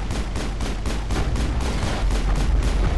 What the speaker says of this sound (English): Okay, they got rockets.